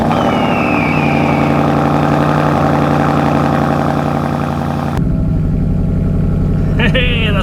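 Ford Mustang fitted with a ROUSH exhaust running loud and close, a steady deep rumble with strong harmonics that drops sharply near the five-second mark, then idles on with a small blip at the end.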